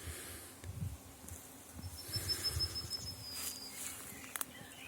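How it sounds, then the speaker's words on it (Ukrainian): Faint, scattered buzzing of honeybees working flowering wild rose drifts through a quiet outdoor scene, with a thin steady whine and soft rustling underneath. "Багато бджоли працює."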